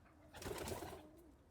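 Pigeons in a loft give soft, low cooing calls, a brief burst of several coos building up and fading over a steady background hum, with no talking.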